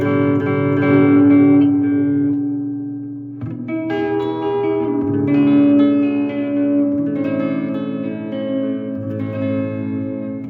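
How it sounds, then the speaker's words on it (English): Guitar tones played through a homemade guitar amplifier switched to a super reverb mode, sustained notes and chords with long, washy reverb tails that swell and overlap, loud and alone with no talk. "Now let's turn it down and switch to the super reverb mode."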